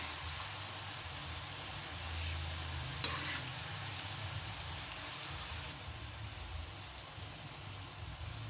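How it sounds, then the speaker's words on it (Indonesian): Kue bawang onion crackers frying in oil while being stirred, a faint steady rain-like sizzle of bubbling oil with one sharp clink of a utensil and light scraping throughout. "Jangan lupa kita aduk-aduk biar dia nggak menempel dengan teman-temannya ini"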